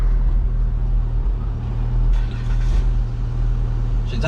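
A truck engine idles after a carburetor swap, a steady low rumble up close with some brief background noises breaking in.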